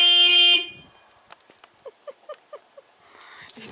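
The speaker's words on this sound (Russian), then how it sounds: "Слышал, как там сигналит?" A car horn blares in one loud sustained blast that cuts off after about half a second, followed by quieter scattered taps and a short run of soft rhythmic knocks.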